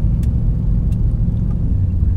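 A Nissan Titan pickup truck, recently repaired after a clogged fault, being driven: its engine gives a low, steady rumble from inside the cab, with no revving and a few faint ticks above it.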